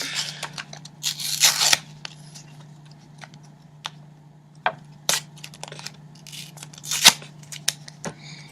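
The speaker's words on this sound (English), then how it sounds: "you're going to be ripping the card actually, right in front of them" Paper playing card, the Queen of Diamonds, torn apart in a close-up magic trick, with a few sharp ripping bursts and scattered crisp tearing and crackling noises over a steady low hum.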